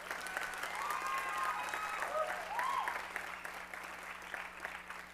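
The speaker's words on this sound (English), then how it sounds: "Give him a great big round of applause." Steady applause from a conference audience fills the room, sustained and fairly even for several seconds, with a faint whistling tone drifting through the middle.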